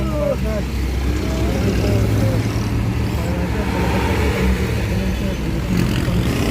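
Road traffic passing near a cemetery in Angono, Rizal: a continuous rumble of cars and larger vehicles close by, with engine hum and occasional louder passes.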